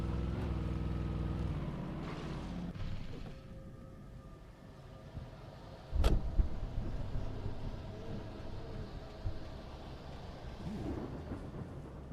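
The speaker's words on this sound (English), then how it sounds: "An army truck." An army truck engine rumbles low and heavy in the Alan Wake video game, loud at first and then receding, with a sharp impact midway followed by a renewed rumble.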